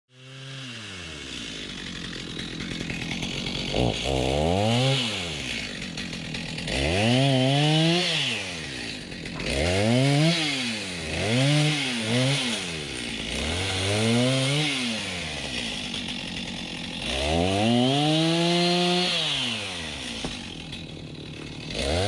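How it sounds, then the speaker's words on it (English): A wood chipper roars nearby, its engine repeatedly bogging down and revving back up as brush is fed through, loud and continuous. "it's really satisfying to watch all the shavings come out of the chipper as the pile gets smaller"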